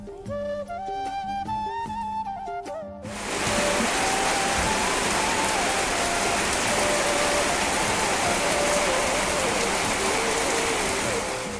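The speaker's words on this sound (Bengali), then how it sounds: "এত মুষলধারে বৃষ্টি শুরু হয়ে যায়" Heavy monsoon rain pours down steadily in a rural village setting, a dense, loud, continuous hiss filling the scene for most of the stretch after a brief opening of music, with no talk over it.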